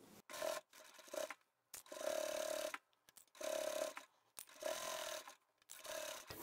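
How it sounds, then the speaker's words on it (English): A sewing machine stitches a drawstring bag in short bursts of rapid mechanical whirring and clicking, separated by brief pauses, close and moderately quiet with no talk. "I'm going to backstitch here and then I'll backstitch at the next mark and continue on."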